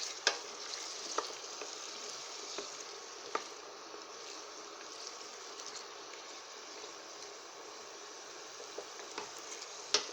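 Frozen garlic and ginger sizzle in a pan with a soft, steady frying hiss and a few faint pops and clicks throughout, quiet and heard close up with no talk.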